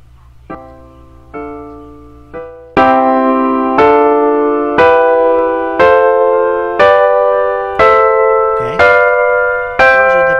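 Piano triads built on each step of the major scale, played one after another, each struck firmly and left to ring, stepping upward with a steady, even rhythm.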